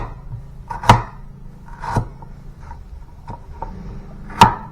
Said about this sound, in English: We're going to slice and add to it 31 grams of turmeric